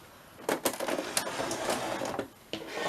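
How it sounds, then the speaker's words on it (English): A sewing machine runs in short bursts of rapid mechanical stitching, close and fairly loud, pausing briefly before starting again, with no speech. "somebody asked about my sewing machine"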